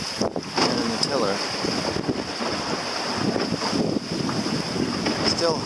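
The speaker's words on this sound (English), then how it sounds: "we've had winds 15," Wind rushing over a small sailboat at sea off the New England coast in 15 to 20 knot gusts, steady buffeting roar with a high whistling tone and water sloshing, continuous and loud throughout.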